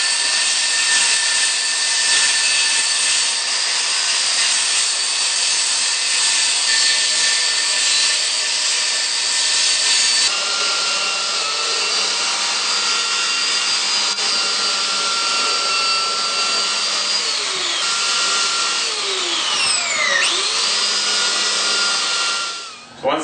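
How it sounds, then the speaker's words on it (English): A power tool cuts an Onyx shower panel along a taped line, giving a steady loud high-pitched whine that holds for over twenty seconds, shifting tone midway and sweeping in pitch near the end before stopping abruptly. "You can cut from the front side or the back side of the Onyx panel."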